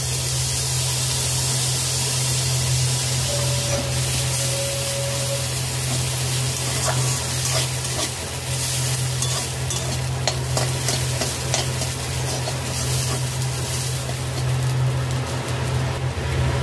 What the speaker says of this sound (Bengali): দেরাদুন রাইসের চাল নিয়েছি, ভালো করে ধুয়ে নিয়েছি, ভেজে নেব।